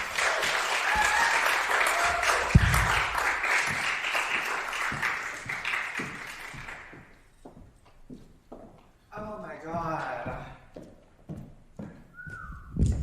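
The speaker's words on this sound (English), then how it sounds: "A huge round of applause for our performance." A crowd at a university drag performance night applauds loudly and steadily for about seven seconds, then thins to scattered claps and cheers with a brief voice near the end.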